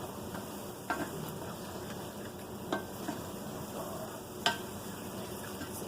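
Ingredients for a creamy burrito casserole stirred in a pan over a soft background sizzle, with a few faint scrapes of the utensil against the pan, quiet and without talk.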